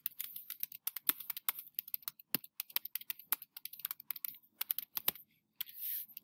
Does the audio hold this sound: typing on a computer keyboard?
yes